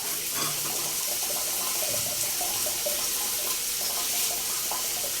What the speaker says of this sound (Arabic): صفينا المكرونه اهي